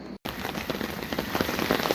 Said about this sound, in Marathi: आता सध्या बाहेर पाऊस चालू आहे